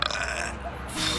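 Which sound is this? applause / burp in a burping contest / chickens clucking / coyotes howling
burp in a burping contest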